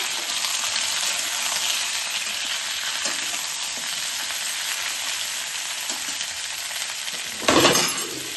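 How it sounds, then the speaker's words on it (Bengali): Vegetables for a spinach ghonto frying in a pan, a strong, steady close sizzle with a few faint stirring clicks and a brief louder clatter near the end. "সমস্ত সবজিগুলো আমি একটু ভেজে নেব"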